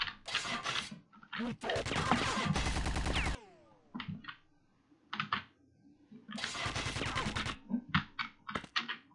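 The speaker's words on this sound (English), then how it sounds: "Being shot at from somewhere." Gunfire in Quake 2: loud bursts of rapid machine-gun fire alternating with short single shots and quiet gaps, close and punchy.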